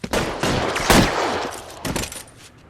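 Gunfire in the video game L.A. Noire during a police shootout: a loud, dense burst of shots and rapid fire with sharp cracks around the middle and a second burst near the end, with no talking.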